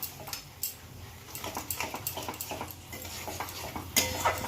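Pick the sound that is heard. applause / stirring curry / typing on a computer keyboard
stirring curry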